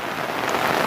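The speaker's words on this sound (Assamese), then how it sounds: "এৰা নেপেৰাকৈ বৰষুণ" Heavy, incessant rain pours down in a steady, dense hiss with no voices.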